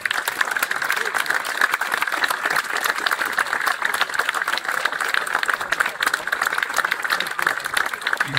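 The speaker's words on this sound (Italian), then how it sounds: "Mi invito perciò a un lungo applauso e viva Torri!" Long applause from a crowd in a town square during a historical costume procession, a steady, dense wash of clapping that continues evenly throughout with no break.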